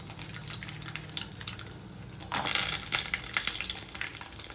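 Cashews and dried red chillies frying in oil with mustard seeds for wedding-style upma, a quiet hiss that swells into a louder crackling sizzle midway, with faint stirring clicks.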